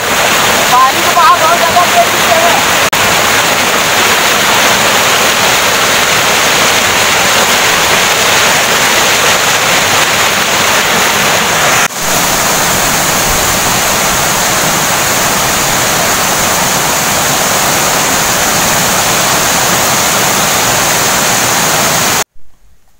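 A forest waterfall roars as a steady, loud, broadband rush of falling water that fills the whole scene without pause, cutting out abruptly at the very end.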